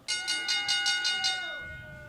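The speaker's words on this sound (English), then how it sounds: "Ring the bell." A ringside bell at a wrestling match in a video game, struck about seven times in quick, even succession, each clang bright and metallic, then ringing out into a long fading tone with no talk over it.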